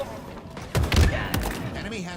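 Grenade explosion in a Halo esports match, a sudden heavy boom with rumbling tail and a follow-up blast, mixed into game noise with a voice talking around it.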